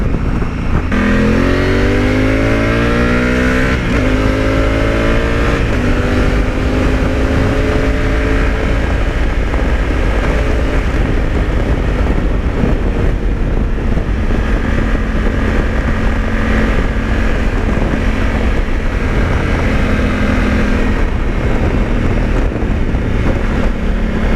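A Honda Africa Twin motorcycle engine drones loud and close while riding on open roads, rising and falling through gear changes with strong wind rush throughout.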